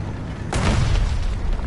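Tank gun firing a shell and exploding in a war video game with Italian tankettes, a single loud, close boom that bursts in suddenly and rolls on as a dense rumble.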